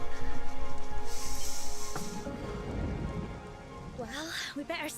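Steady rain falls in the video game Dragon Quest XI, a loud continuous wash with low rumbles, fading slightly as a voice cuts in near the end.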